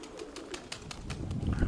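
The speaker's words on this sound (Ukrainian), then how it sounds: "Сідають голуби." Pigeons come in to land, their wingbeats giving a series of soft rhythmic flaps with faint cooing underneath, fairly quiet and close.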